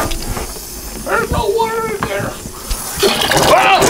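Air hissing and sputtering out of a faucet fitted with a water filter and diverter, a close, loud, uneven rush with gurgling spurts as water begins to push through.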